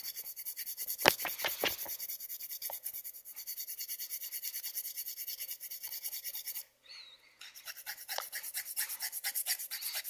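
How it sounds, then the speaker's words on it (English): A rubber eraser is rubbed hard against the contacts of a Nintendo game cartridge, making close, quiet rasping strokes in bursts. There is a brief pause partway through, then the scrubbing resumes. "So let's take the eraser on this side. Just give it a good scrubbing."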